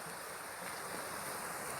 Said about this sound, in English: we can hear and see the water gushing out from underground